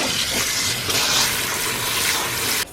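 Cold tap water runs steadily over freshly cooked noodles being rinsed in a kitchen, a continuous close splashing hiss that cuts off abruptly at the end.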